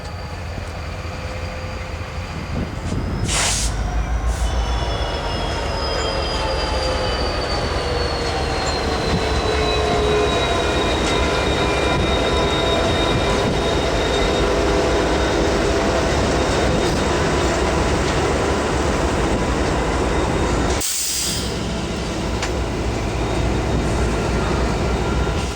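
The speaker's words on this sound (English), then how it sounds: "Kodachrome power is on the point of this westbound as it slows into Christie for a meet" A Santa Fe westbound freight train with Kodachrome-painted locomotives slows into Christie for a meet, a loud, continuous rumble of rolling cars with long squealing wheel tones that glide downward, plus a few sharp clanks.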